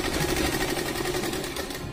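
Sewing machine running long, loose stitches along a fabric sleeve to gather it, a steady fast whirring drone holding close and loud for about two seconds.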